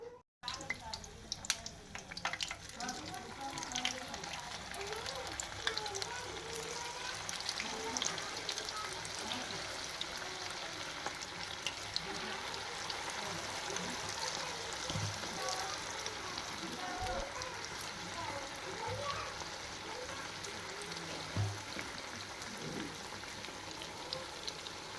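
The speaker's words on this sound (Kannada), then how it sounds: "ಇವಾಗ ಎಣ್ಣೆ ಬಿಸಿ ಆತಪ್ಪ ಅಂತಂದ್ರೆ ಫ್ಲವರ್ ಕರ್ಕೊಂಬಿಡೋಣ್ರಿ" Cauliflower florets dropped into hot oil for street-style gobi manchurian, a steady dense sizzle and crackle that runs continuously at even loudness, close up, with a few sharper pops.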